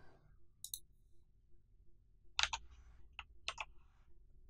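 Sparse clicks of typing on a computer keyboard, a few close, crisp keystrokes spaced irregularly over a quiet background.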